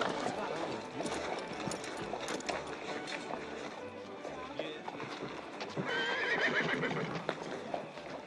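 Horses clip-clop on hooves and neigh in a period drama street scene, with steady hoof clatter, a clear whinny near the end and people talking over it.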